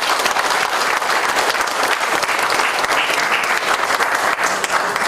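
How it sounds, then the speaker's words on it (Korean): Audience applause at the opening ceremony for a new livestock cooperative head office building, steady and dense clapping that holds at full strength from start to finish with no voices over it. "박수 한번 주세요"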